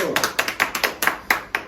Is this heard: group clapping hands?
yes